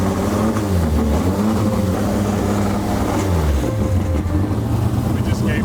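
A car engine revs up to around 3,500 rpm during an exhaust noise check, a loud steady droning roar with rising and falling tones, under light wind buffeting on the microphone.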